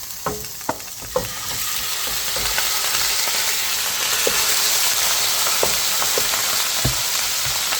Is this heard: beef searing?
yes